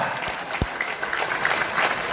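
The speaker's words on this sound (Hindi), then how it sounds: "जोरदार तालियां बजाइए, नहीं तो कंप्यूटर नाराज हो रहा है।" Applause from an audience at a motivational seminar in a convention hall, a steady wash of many hands clapping together at moderate loudness with no voices over it.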